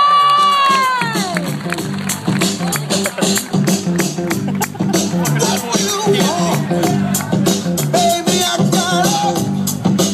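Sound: crowd cheering and applauding at a football club presentation

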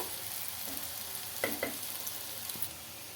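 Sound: poha ingredients frying in a pan

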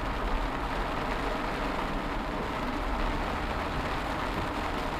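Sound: heavy rain falling

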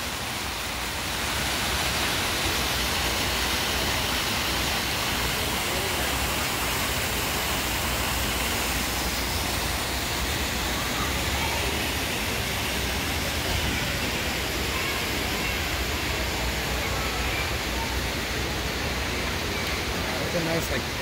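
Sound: indoor waterfall by freshwater aquarium in store

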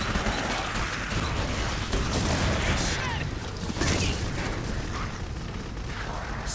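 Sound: explosions and gunfire in the video game Clive Barker's Jericho

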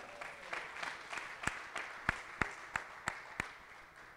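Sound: audience applause

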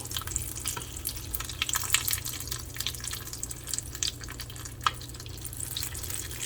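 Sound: oil sizzling while grilling corn

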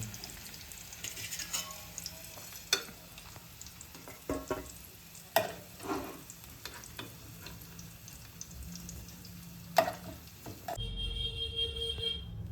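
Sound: potatoes frying in a pan for dum aloo

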